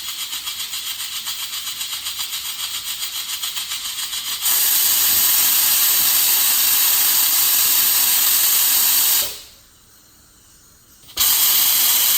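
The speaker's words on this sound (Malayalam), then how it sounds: "3 വിസിൽ വരുന്നത് വരെ ഇത് വേവിക്കാം" A pressure cooker hisses with a pulsing, rattling steam sound, then bursts into a loud, sustained whistle that cuts out briefly before resuming.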